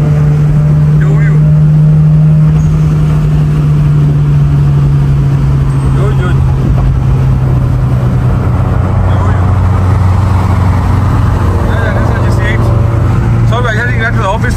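Turbocharged GC8 car cruising in fourth gear under boost, its steady engine drone loud and close from inside the cabin throughout, with a low constant hum and faint intermittent chatter from occupants.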